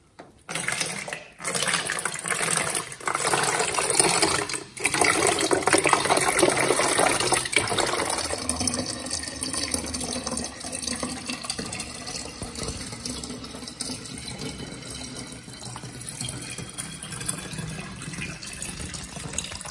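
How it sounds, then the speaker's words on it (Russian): Water pours steadily into a container holding crude oil, a loud gushing splash at first that settles into a quieter, continuous trickling fill, with no voices over it. "После чего я начинаю сюда выливать водичку"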